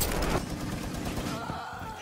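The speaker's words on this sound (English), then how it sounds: "I heard the shot, right?" A gunshot and a brief burst of gunfire in a shooter video game, fairly faint and muffled within dense game noise.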